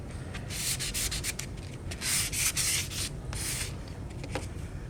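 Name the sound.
sandpaper lightly sanding a bamboo shinai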